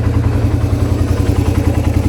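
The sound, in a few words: Suzuki Raider 150 motorcycle engine idling while warming up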